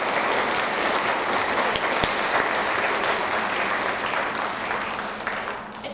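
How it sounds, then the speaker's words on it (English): An audience at a sixth grade awards ceremony applauds in a dense, sustained wash of clapping that fades slightly toward the end, heard close and filling the room. "one more round of applause for these three up here"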